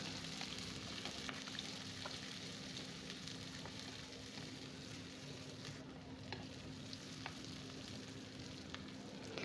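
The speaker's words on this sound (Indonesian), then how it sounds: "baru deh kita masukkan cabai, lengkuas, dan daun salam. Kita tumis lagi sampai cabainya layu." Chilies, galangal and bay leaves stir-fried in a pan give a steady, soft sizzle with faint scraping stirs throughout, no voices present.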